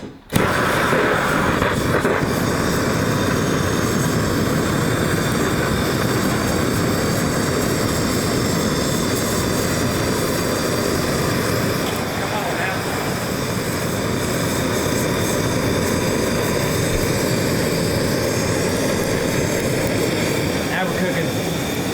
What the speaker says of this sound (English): we're gonna use this, what's this, Searsall torch head on some camping fuel